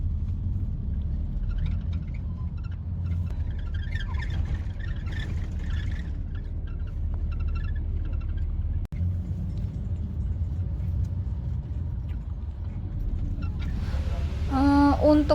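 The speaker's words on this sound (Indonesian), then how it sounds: "Ternyata di Beijing tuh macet juga seperti ini nih." Night traffic jam in Beijing, with a steady low rumble of idling and creeping cars close by, muffled as if from inside a vehicle, and faint voices and a brief tonal sound near the end.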